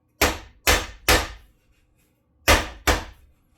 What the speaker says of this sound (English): I wouldn't use a waffle hammer on that, but that's all I had